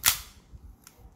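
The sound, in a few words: KJW 1911 airsoft pistol firing with blowback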